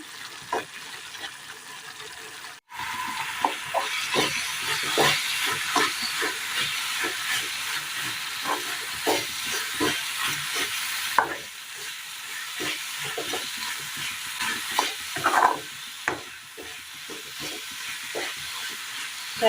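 Jaggery syrup bubbles and thickens in a pan with a steady frying hiss, broken by repeated scraping stirs of a spoon in an irregular rhythm, close and moderately loud, with no talking.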